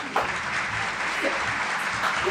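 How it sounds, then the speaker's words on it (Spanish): A burst of loud, steady audience applause greets an artist arriving on a live talk show about magic and art, a continuous wash of clapping with no speech over it. "Un aplauso gigante para Mika Lilienthal."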